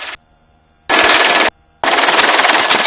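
Machine gun fired from a helicopter, two long sustained bursts of rapid loud shots separated by short pauses, close and dominant, with the helicopter's low drone beneath.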